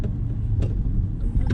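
A car pulls forward under acceleration during a driving lesson, a low, steady engine rumble from inside the cabin that lasts only a moment with no clear rise in pitch.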